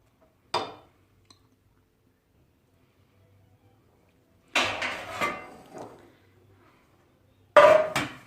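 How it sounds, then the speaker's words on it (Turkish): A metal baking tray set down on a kitchen counter, a single clanking contact first, then a longer clattering, scraping handling of metal, and a final sharp clank, with silence between. "Şöyle tepsimi koyuyorum."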